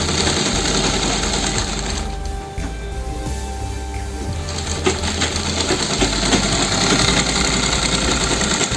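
A sewing machine stitching a double piping border runs steadily and loudly up close, a continuous whirring motor drone with mechanical chatter that briefly eases before picking back up; no voices.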